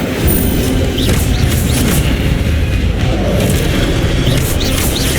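An Incendio fire spell roars in Hogwarts Legacy combat, a loud, sustained booming whoosh of flame with crackling bursts and dense rumbling, with no voices heard.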